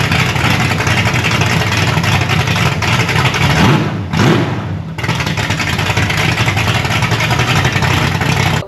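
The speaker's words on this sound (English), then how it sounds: "All right, so the Buick sounds good." A big block Buick Skylark with a Borla Pro XS exhaust runs with a steady, loud, deep rumble that briefly drops and dips before returning to its full throaty burble.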